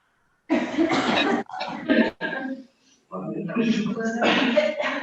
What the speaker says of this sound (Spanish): Coger aire por la nariz y toser.